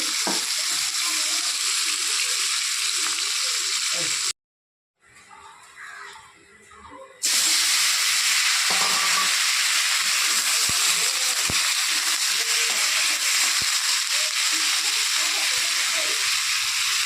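Potato and drumstick pieces frying in leftover fish-frying oil with salt and turmeric give a loud, continuous close sizzle, briefly dropping to near silence with faint clatter before the frying noise resumes.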